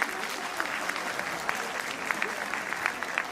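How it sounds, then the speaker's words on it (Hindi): An audience at a Republic Day eve cultural evening applauds after a children's performance: steady, dense clapping from a crowd, held at an even level for a few seconds. "सबके लिए बच्चों से जोरदार तालियां।"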